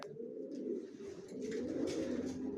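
Racer pigeons coo in a low, continuous rolling murmur close by, with faint rustling and chirps above it.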